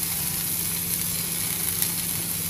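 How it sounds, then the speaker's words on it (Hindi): Capsicum and paneer lightly frying in oil on a tawa, a steady, close crackling sizzle with no talking. "ऑयल ग्रीस करके इसी पे मैं कैप्सिकम और पनीर को हल्का सा फ्राई कर लेती हूँ"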